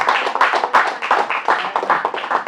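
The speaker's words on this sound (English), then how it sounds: "So round of applause." Audience at a live birthday concert show claps in a brief, close round of applause, sharp individual hand claps overlapping in a brisk, uneven patter.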